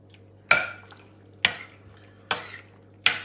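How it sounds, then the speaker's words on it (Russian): Four separate clinks of a utensil against a bowl while beaten egg is stirred into a fish mixture for a salaka fish doner, evenly spaced about a second apart, close and fairly loud over a quiet low hum. "теперь добавляем к рыбе, нужно хорошо перемешать"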